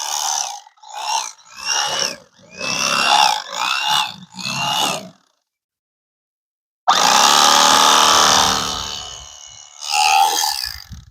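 An electric fillet knife buzzes steadily as it cuts through fish, a loud continuous motor whine after a stretch of choppy, intermittent bursts and a brief silence.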